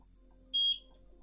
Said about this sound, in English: That was a loud beep.